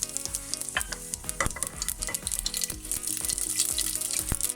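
Mustard seeds sizzling and popping in three tablespoons of hot oil for a dal tempering, a dense crackling hiss with sharp irregular pops and stirring, close and loud with no voices.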